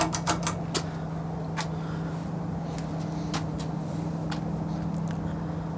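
A Fanimation Belleria ceiling fan with separately bought 22-inch ABS blades runs on low speed, giving a steady low hum with a few faint clicks and ticks near the start.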